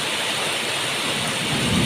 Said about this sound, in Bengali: এত গরমের যে মুসলধারা বৃষ্টি হচ্ছে